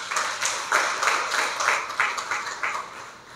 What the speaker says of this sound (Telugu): ఒకసారి చప్పట్లు కూడా దేవుని స్తుతించండి.